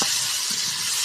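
Vegetables fry in a hot pan with a steady bright sizzle and faint stirring sounds, loud and close.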